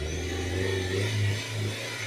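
Petrol 1.8 turbo engine of a 2002 VW Passat B5 running at raised revs, a steady close hum with slight swells in speed, heard alone without talk.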